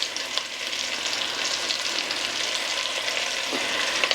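Ground beef fries in a pan for a truck stop chili, giving a loud, continuous hissing sizzle close by, with a few faint stirring scrapes.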